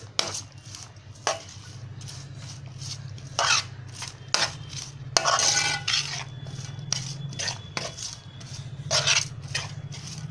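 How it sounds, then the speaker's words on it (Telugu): Utensil scraping and clinking against a bowl while a mixture is stirred and mixed, with irregular taps and scrapes repeating through the clip over a low steady background hum. "ఇక ఈ మిశ్రమాన్ని బాగా కలపాలండి."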